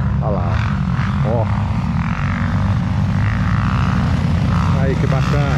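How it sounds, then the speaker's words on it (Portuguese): A propeller airplane passes over a mountain trail near São José do Barreiro during a motocross ride, making a loud, sustained engine drone that runs through the whole stretch while people talk over it. "Ih, passou um avião lá, hein?"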